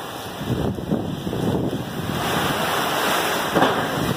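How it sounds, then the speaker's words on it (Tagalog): Strong typhoon wind roars and gusts in Angeles City, Pampanga, a loud, continuous rushing with surges and buffeting against the microphone, heard alone without voices. "Lakas ng hangin."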